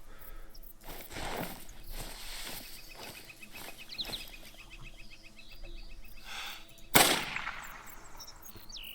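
A single loud gunshot rings out while duck hunting in the video game Call of the Wild, a sharp burst rising from steady ambient game sound.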